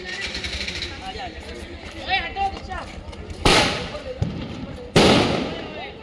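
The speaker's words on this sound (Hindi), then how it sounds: "तो ये बम फोड़ रहे हैं" Diwali firecrackers burst nearby with two sharp, loud bangs a second and a half apart, over a background of people chattering and distant crackling.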